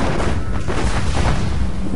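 Massed units fire in Planetary Annihilation as a dense, continuous wall of booming shots and blasts, loud and unbroken for the whole moment.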